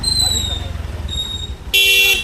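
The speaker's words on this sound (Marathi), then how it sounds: "आता पाठीमागून कसली फास्ट गाडी आली" A fast vehicle rumbles up close from behind on the road near Rajmachi Fort, Lonavala, then a sharp, loud horn blast cuts in near the end, with a voice faintly underneath.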